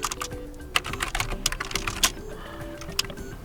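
Quick, uneven clatter of keystrokes on a computer keyboard while entering data into a MySQL database, up close and steady, with a few louder key hits and no talk.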